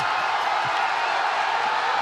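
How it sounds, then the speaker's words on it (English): A stadium crowd at an A-League women's football match roars in a steady, loud wash of cheering after a Wellington Phoenix goal. "Listen to the crowd erupt."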